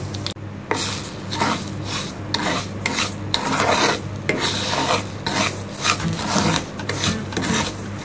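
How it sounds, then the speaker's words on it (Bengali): Sugar stirred into hot ghee in a pan with cashews, a steady gritty scraping and rubbing with soft sizzling underneath, repeated strokes of a spoon against the metal pan, close and fairly loud with no talking. "এখন আমি ঘিয়ের মধ্যে দিয়ে দিব 1/2 কাপ চিনি।"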